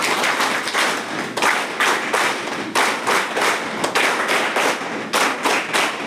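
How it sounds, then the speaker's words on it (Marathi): A school audience claps loudly and together in a rural high school setting, sharp rhythmic bursts of hands repeating steadily and close, with no voices over them. "भाषण आवडलं असेल तर जोरानं टाळ्या वाजवायच्या आहेत"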